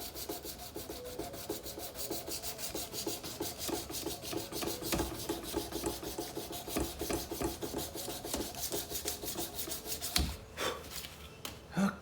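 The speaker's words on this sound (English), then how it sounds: "I'm real happy with the belt grinder now" A belt grinder sands a knife blade in a steady, continuous abrasive rasp that runs close and loud, with a sharper scraping burst near the end and no talking.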